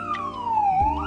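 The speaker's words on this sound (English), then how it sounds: "The siren was so loud." A York Region Police car siren wails close by, its pitch sweeping slowly downward, then rising again as a low rumble enters near the end.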